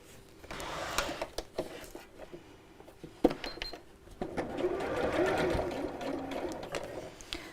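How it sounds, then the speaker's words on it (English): A sewing machine stitches a small fabric cosmetic bag in quick rattling bursts with short pauses, close by and fairly quiet, with light handling clicks between runs. "I'm going to sew over the same line"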